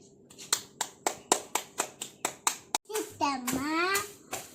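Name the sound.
hand clapping with a child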